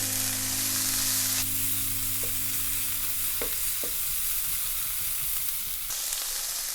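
Mixed vegetables stir-frying in a pan over a medium flame give a steady, close sizzle and crackle throughout, with a few brief clinks of a utensil and a low background hum.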